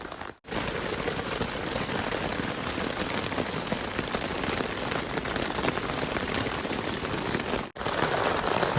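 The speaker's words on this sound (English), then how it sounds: "2:30 in the morning and it is still raining." Steady rain falls on a tent at night in a campsite at Indian Cave, a dense, even patter close overhead that continues without pause, broken only by a couple of brief cuts.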